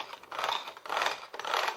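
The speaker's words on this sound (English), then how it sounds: "I'll use hand mixer as well." An electric hand mixer whirs through homemade hibiscus and rose hand cream, a close, steady buzzing that pulses in three short surges.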